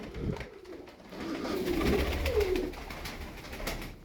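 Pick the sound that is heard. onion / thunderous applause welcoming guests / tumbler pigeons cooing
tumbler pigeons cooing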